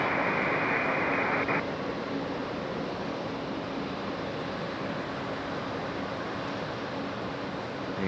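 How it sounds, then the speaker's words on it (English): A Boeing 757-200 arriving from Atlanta comes in to land at Raleigh-Durham in stormy weather, a loud, steady jet roar that holds throughout, a bright tone fading away early on, with no voices. "that 757-200 coming in from Atlanta"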